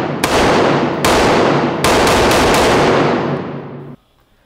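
A short-barrel rifle with a 10.5-inch barrel and a muzzle brake fires four loud, sharp, near shots at uneven intervals, each ending in a long blast that decays into a ringing tail, with no talk.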